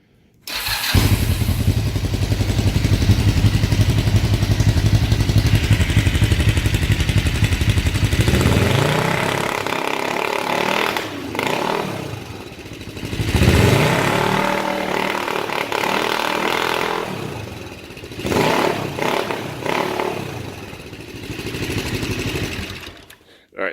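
A motorcycle with drilled-out exhaust pipes starts up and idles with a loud, raw, uneven rumble, then is revved in several sharp bursts that rise and fall, recorded close with no talking.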